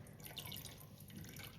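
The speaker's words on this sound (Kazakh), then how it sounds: "Мынандай су құямыз." Water poured into a dish during a home science experiment with a hot candle, a soft steady trickle heard faintly and close throughout, with no voices.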